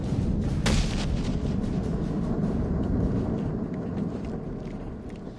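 Gunfire at a shooting range in the video game Batman Arkham Origins, a dense, continuous rumbling barrage with one sharp louder burst near the start, tapering off slightly toward the end, with no talking.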